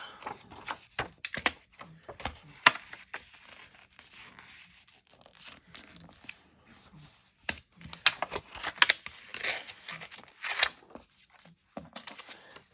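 Scissors snip through paper salvaged from old book parts in a crafting session, a quiet run of short crisp cuts and rustles, some in quick clusters, with brief pauses between.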